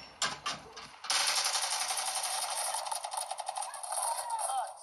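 Rapid automatic gunfire from a weapon in the mobile shooter game Warzone Mobile, a dense, loud stream of shots that starts after a brief pause and continues steadily to the end.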